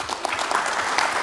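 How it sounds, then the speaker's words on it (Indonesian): Brief, steady clapping from a group of people at a parliamentary hearing, continuous for just over a second. "Tepuk tangan dong Pak."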